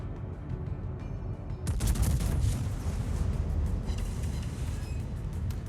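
The battleship Georgia's main guns fire in World of Warships: a sudden heavy salvo blast breaks through a steady low engine and sea rumble, then a long dense roar and crackle carries on loud and unbroken, with no voices.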